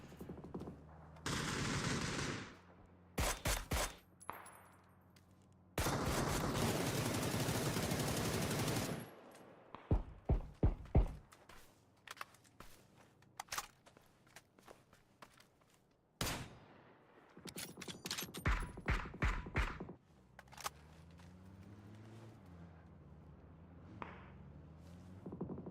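Gunfire in a video game esports match: bursts of rapid automatic fire and single shots in clusters, separated by quiet gaps, loud and close, with some softer clicks and thuds between volleys.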